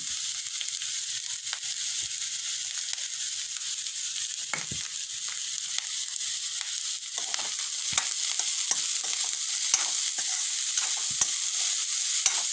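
Cauliflower frying in a pan with ginger and green chillies gives a steady, loud sizzle, with scattered stirring scrapes and clicks that grow busier in the second half.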